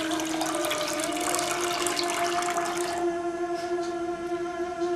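Milk poured onto sugar from a cup into a pot, a steady liquid stream with a rising tone, close and continuous, thinning out near the end.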